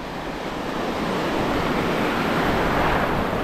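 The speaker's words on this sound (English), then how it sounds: "But the water is choppy." Choppy sea off a remote Indonesian beach, waves churning in a loud, unbroken wash with wind rushing over the microphone.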